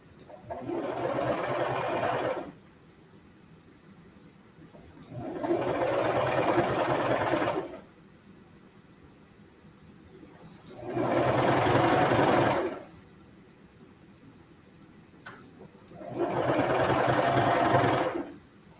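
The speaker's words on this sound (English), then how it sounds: "we're just gonna sew this second leg hem and be done" A sewing machine stitches the leg hem of a pair of leggings in four loud, even bursts of rapid mechanical whirring, separated by short quiet pauses, with no voices.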